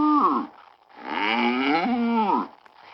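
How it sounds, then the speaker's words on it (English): A cow moos twice: a short low call, then a longer drawn-out moo that rises and falls. Both are loud and clear, with no voices over them. "When you see a cow, make the cow sound."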